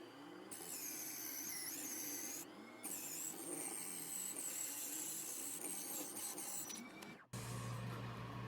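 Power tool cutting metal for an indoor sport kite spreader connector, a loud continuous high-pitched whine and grinding with tonal squeal, briefly pausing near the start and stopping abruptly before a low hum remains.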